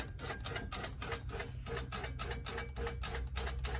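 A Handi Quilter Amara 24 quilting machine runs a basting line across a quilt, giving a steady, fast mechanical stitching chatter with a regular pulsing rhythm, close and continuous throughout.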